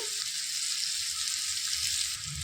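Bitter gourd fry sizzling in a hot pan, a steady loud frying hiss with faint stirring scrapes underneath, no voices.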